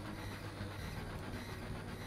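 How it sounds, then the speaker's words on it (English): An oncoming train in the Final Fantasy VII video game gives a dense, steady rumble with rail clatter, a continuous broadband roar at moderate level with no voices over it. "Oh shit, she jumped in front of the oncoming train."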